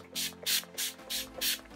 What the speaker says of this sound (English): So I'm just going to take my Urban Decay All Nighter Setting Spray. I'm just going to spritz that all over